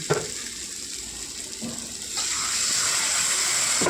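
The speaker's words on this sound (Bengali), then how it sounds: "তাই আমি এবার এতে জল অ্যাড করলাম" Water pours into a pan of pointed gourd curry with mustard, a steady close splashing stream that starts partway through and continues to the end after quieter kitchen sounds.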